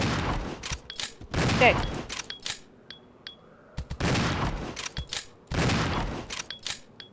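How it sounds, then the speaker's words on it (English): A shotgun fires in the video game Resident Evil 0: about five loud, close blasts in irregular succession, each with a sharp crack and short decay, and a voice speaks briefly between them. "I have my shotgun equipped."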